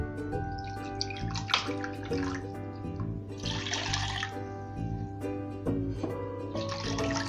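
Water is poured into a ginger lemonade paste, a gurgling splashing pour in bursts over a steady low background hum, with no talk.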